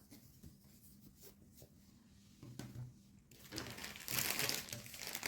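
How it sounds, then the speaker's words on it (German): Plastic foil and zip-bag packaging around cross-stitch yarn crinkles during an unboxing, with soft scattered rustles at first that swell into louder, continuous crackling handling near the end. "also es ist alles mindestens 3-4 Mal in verschiedenen Plastikfolien oder Zipbeuteln eingepackt. Entschuldigt, es knistert."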